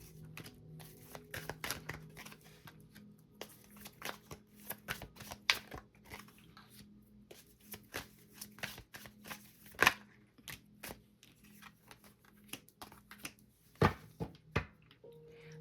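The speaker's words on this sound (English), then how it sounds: "So let's pull a couple of more cards and see what else is coming up for you." Quiet shuffling and pulling of cards for a tarot-style card reading, soft irregular riffles, slides and taps close to the microphone, with no talk.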